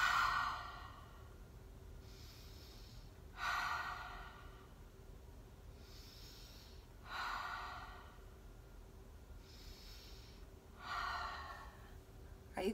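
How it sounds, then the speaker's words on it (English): Slow, deep breathing exercise, drawing in through the nose and out through the mouth: about four long, audible exhales come at an even pace, each separated by quiet pauses, close and clear with no talking. "let's do our breathing, in through the nose, out through the mouth"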